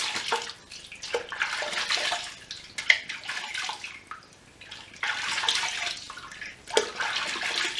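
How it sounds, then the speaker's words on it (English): Tap water runs steadily as hands are rinsed under it before removing makeup, a broad splashing hiss with brief dips and surges, close and alone with no talk. "So I tend to just rinse my hands off first."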